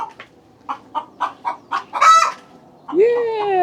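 A run of rhythmic hen clucks builds to a loud drawn-out squawk, followed by a rising, whining bird call at the end; close by.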